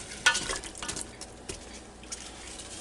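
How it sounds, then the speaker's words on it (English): Chopped vegetables are stirred in beef oil and juices inside a Ninja Foodi Deluxe pot, giving quiet scraping and soft sizzling with a sharper clink at the start, faint and close. "We'll stir them around just a little bit so I can get some of that oil and"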